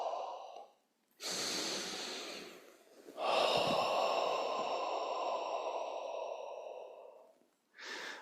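Slow, deep qigong breaths at a stress-reduction class: a short inhale, a pause, then a long airy breath and a longer drawn-out exhale, close and clear with no talking.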